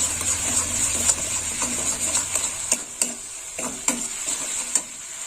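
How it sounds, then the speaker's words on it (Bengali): Sour yogurt being stirred into a paneer curry in a pan, a soft bubbling sizzle broken by repeated knocks and scrapes of a spoon against the pan, with no voices. "এবার টক দইটাও দিয়ে দেবো, একটু নেড়ে চেড়ে নেব।"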